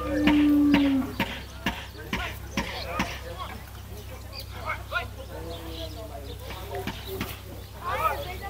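A herd of cattle moos at a rural farm gathering before a parade, with hoof clatter and low outdoor rumble throughout, plus one clear drawn-out moo near the start and fainter calls after it.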